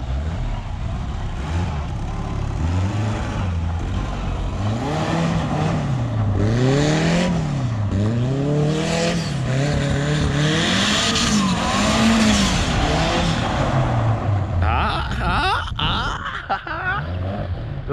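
Racing-game car engine revving with rising and falling pitch sweeps, continuous and loud, with tire squeals and skids throughout; a BMW is the car being driven.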